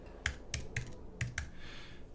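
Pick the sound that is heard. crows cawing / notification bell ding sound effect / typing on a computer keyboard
typing on a computer keyboard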